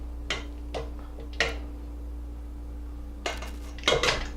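Tender cooked pulled pork lifted out and dropped into a meat bowl, heard as a few scattered clinks and clatters of utensils against dishes separated by quiet pauses, near and moderately loud over a steady low hum.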